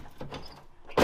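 A toy Jeep's door swings open and shut, a few soft clunks and creaks followed by a sharper, louder latch sound at the end, heard close up with no talk.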